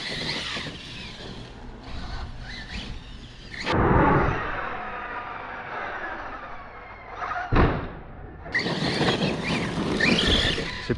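An Arrma Kraton V4 6S RC car runs on a stock circuit, its electric motor whining and surging up and down with tire noise and a couple of heavy thuds from landings or impacts.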